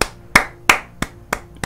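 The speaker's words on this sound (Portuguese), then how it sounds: "Palmas." Hand clapping, six sharp, separate claps at a slow, slightly uneven pace, loud and close with no talk in between.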